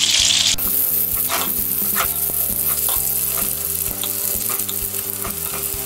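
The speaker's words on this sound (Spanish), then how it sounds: "una vez derretida la mantequilla, pues vamos, vamos a ir metiendo las patatas." Potatoes frying in melted butter in a pan, a steady loud sizzle running throughout with scattered crackles and pops, no talking.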